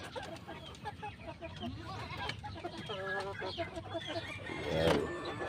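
Chickens cluck and chatter inside a coop, a dense mix of fowl calls including a rooster crow, with a person speaking over the flock.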